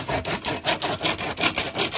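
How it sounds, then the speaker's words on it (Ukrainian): A hand saw cuts through wood in quick, even back-and-forth strokes, about nine rasping passes in two seconds, close and fairly loud with no talk over it. "А ну дай мені, дай пилку."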